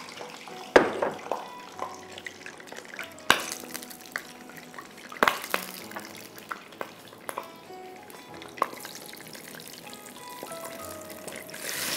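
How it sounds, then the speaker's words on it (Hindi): Water is poured into a pan of ginger garlic paste during home cooking, a soft pouring and splashing with a few sharp clinks and taps, fairly quiet and without talk. "थोड़ा सा पानी डालूँगी"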